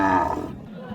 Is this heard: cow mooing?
yes